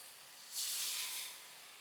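Water from rinsing the spice bowl hits frying spices in a pan for a vegetarian drumstick-flower curry, giving a brief soft hiss that swells and fades within a second; no talk.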